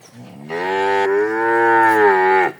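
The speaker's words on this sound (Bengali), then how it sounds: "এটা একটা হলিস্টান ফিজিয়ান" A young Holstein Friesian heifer calf on a dairy farm lets out one long, loud, close moo lasting about two seconds, with no other sound around it.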